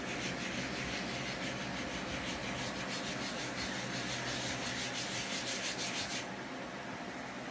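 Steady, close scrubbing on a 3D printer bed after cleaner is squirted on, a continuous rough rubbing hiss that runs without pause for several seconds, fairly quiet.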